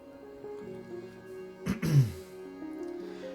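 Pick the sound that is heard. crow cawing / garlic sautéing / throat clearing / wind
throat clearing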